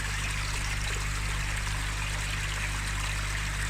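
Aquarium water cascades steadily down through a tidal filter, making a continuous close trickling rush with no pauses and no voices.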